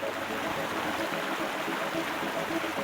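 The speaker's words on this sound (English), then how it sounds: "That cascade also creates huge turbulence in the water downstream" Water cascading over Fermoy Weir into the river, a steady, dense rushing roar of turbulent flow, constant and moderately loud throughout with no other sounds.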